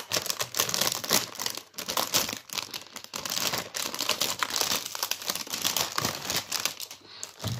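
Plastic and paper packaging of a Rapoo V500 Pro mechanical keyboard with blue switches crinkles and tears steadily during unboxing, close up, in dense rustling bursts with brief pauses and no talking.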